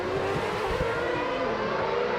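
Formula 1 cars at the 2010 Chinese Grand Prix drone loudly and continuously as they race into the pit lane, a steady high engine whine with shifting pitch and no voices.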